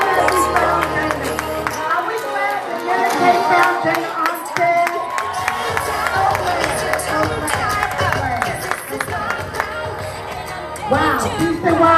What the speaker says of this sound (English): Brenda Armstead, another big round of applause.